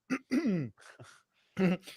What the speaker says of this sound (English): I was fake coughing, then it turned into an actual cough